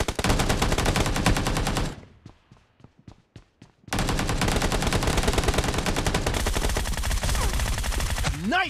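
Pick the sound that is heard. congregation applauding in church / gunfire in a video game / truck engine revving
gunfire in a video game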